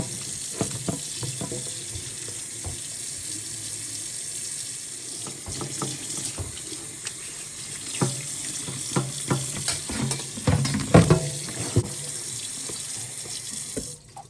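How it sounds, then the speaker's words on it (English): Running tap water splashing over a thawed turkey in its bag as it is washed in a sink, a steady close hiss of water with frequent plastic crinkles and wet handling sounds. "We're gonna wash our big bag. Wash it nicely."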